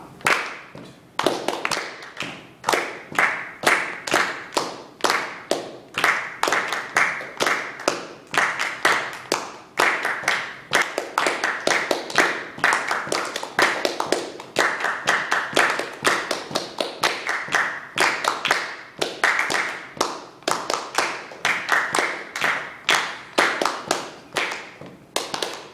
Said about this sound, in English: We'll all clap.